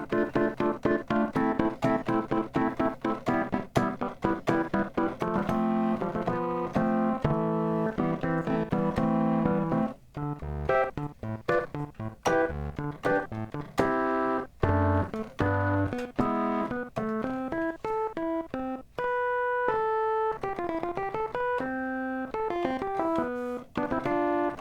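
A soft polyphonic patch on an Arturia MatrixBrute synthesizer plays chords and melodic runs with plucky, bright attacks, steady and moderately quiet throughout, no voices.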